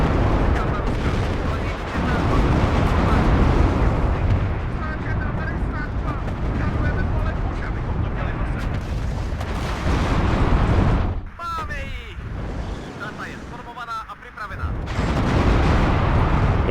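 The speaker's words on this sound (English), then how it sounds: "The artillery's already coming in." Artillery fire in the WARNO war game: a dense, continuous barrage of rumbling booms and blasts, loud and close, that briefly thins to a quieter lull before surging back.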